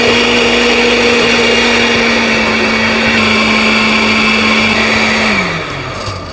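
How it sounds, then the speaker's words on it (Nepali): A kitchen blender grinds curry masala with tomato paste for drumstick curry, a loud, steady high-pitched motor whine that runs for several seconds before winding down at the end. "ल अब यसलाई पिसौँ।"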